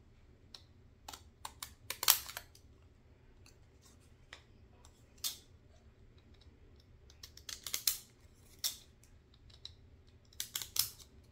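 Scissors snipping through paper while making a Christmas journal, heard as quiet, sharp, crisp cuts in irregular bursts with pauses between, close up against a faint steady background hum.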